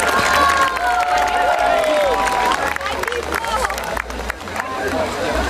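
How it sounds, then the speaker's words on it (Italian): Outdoor crowd at an agricultural festival in Cogolo applauding and cheering for the Guardia di Finanza, a dense steady wash of clapping and voices over babble, with a whistle-like tone early on. "Facciamo anche l'applauso alla Guardia di Finanza"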